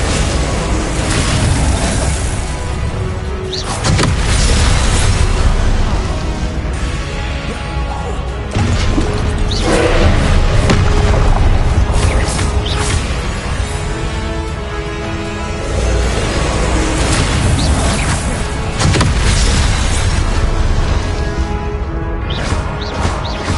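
Confringo blasting spells exploding during Hogwarts Legacy combat on PS5, loud booming blasts and crashing impacts layered with whooshes in a continuous, chaotic barrage.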